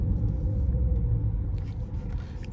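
A Dodge Charger RT with a 5.7 engine and mostly stock exhaust idles nearby, a steady deep rumble with a low throaty burble, running alone without voices.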